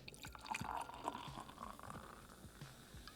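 Avery Brewing Belgian strong dark ale pours into a glass with a steady liquid gurgle and fizzing, close and moderately quiet, with no talk over it.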